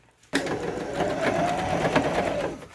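Home sewing machine stitching fabric for a handmade snake costume, starting abruptly and running as a steady, close, loud mechanical whir for a few seconds with no talk.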